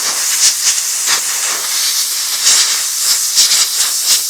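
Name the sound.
compressed air blowing dirt out of Kubota cab air filter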